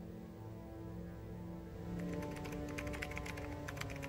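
Rapid clicking of fingers typing on a computer keyboard starts partway through and keeps up a quick, uneven patter over a steady low background hum.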